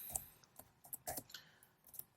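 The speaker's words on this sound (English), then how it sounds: "So I'm gonna just type ROS" Code typed on a computer keyboard for a ROS workspace tutorial: a short, irregular run of quiet, close key clicks and taps, faint and uneven in rhythm.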